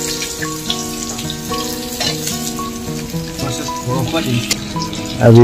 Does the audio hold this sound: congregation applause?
no